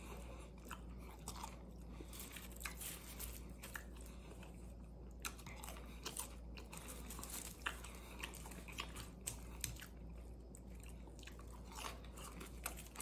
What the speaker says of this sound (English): I'm eating all the potato fries.